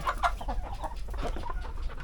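Hens cluck in a short burst from a backyard chicken coop, close and fairly loud, with faint farmyard background.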